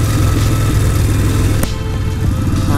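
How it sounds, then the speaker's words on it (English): A motorcycle exhaust picked up by a helmet-mounted microphone with the visor slightly open, a steady low engine drone under heavy wind rush, rising and settling slightly through the ride. "listen to that exhaust"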